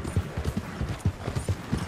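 A horse galloping in the video game Red Dead Redemption 2, with loud, rhythmic clip-clop hoofbeats close up and repeating evenly throughout.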